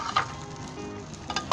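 A tadka sizzles for Kabuli chicken pulao with carrots and dry fruits, a steady close frying hiss with a couple of brief louder crackles or stirring clinks at the start and end.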